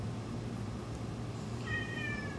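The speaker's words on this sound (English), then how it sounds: "Don't meow at me." A cat meows once, near and clear, a short rising call near the end over a low steady indoor hum.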